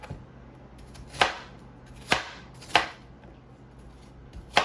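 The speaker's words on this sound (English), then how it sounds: "go ahead and start chopping up the onions" A knife chops onions on a board for a beef stew, a few sharp, quiet cuts at uneven intervals with no talking.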